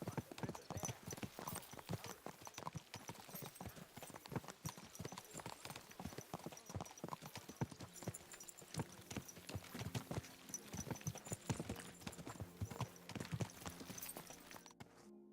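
Horse hooves clip-clop continuously in the medieval video game Kingdom Come: Deliverance 2, a quiet, brisk, uneven beat of hoof strikes on a hard track, with low voices now and then.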